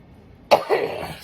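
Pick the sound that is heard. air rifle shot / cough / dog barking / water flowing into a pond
cough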